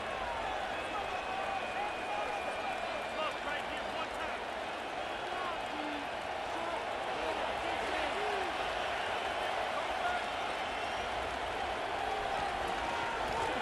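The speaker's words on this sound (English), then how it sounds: "they're going to hear it from this crowd" Stadium crowd noise in a Madden 25 simulation of an NFL game between the Commanders and Eagles on PS5: a continuous, loud roar of cheering and murmuring fans that runs throughout, with a commentator's voice over it at times.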